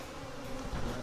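Honey bees from an aggressive hive make a dense, steady buzz that fills the whole moment, loud and close with no talk.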